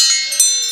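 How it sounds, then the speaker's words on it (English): Wind chimes ring in a short bright burst of tinkling metallic tones that shimmer and fade, heard alone. "she heard the sound of the wind chimes"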